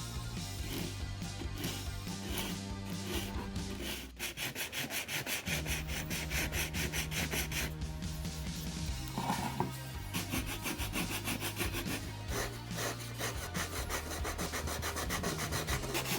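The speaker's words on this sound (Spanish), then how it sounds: "Esto ya, una manita de lija y estupendo." Sapele and walnut wood filler is sanded by hand on the hull of an OCCRE HMS Beagle model ship. Repeated rasping back-and-forth strokes run throughout under background music.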